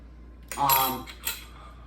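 Crispy roasted pork belly crackling being broken and handled, two short bright crunching bursts with a brief pause between, close and fairly quiet.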